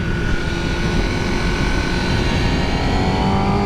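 A 2020 Honda Fireblade motorcycle accelerates hard out of a corner, its engine drone loud and steady throughout with a rising tonal whine, close up and alone without speech.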